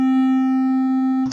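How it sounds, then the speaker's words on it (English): A single steady synthesized tone run through a distortion plugin in FL Studio, a buzzy harmonic drone held loud and unchanging for over a second, then cut off by a short burst of noise. "Now let's add a distortion plugin. So you can hear quite a bit of distortion"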